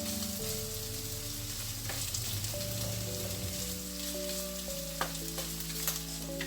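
Softened beef sautés in a pan for beef with broccoli, a steady sizzle with occasional stirring clicks under a faint background hum.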